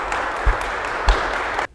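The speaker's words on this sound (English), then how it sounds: "Good applause." Applause from an audience gathered for basketball player Ryan Kelly's retirement press conference, a steady dense patter with a couple of sharper claps, cutting off abruptly near the end.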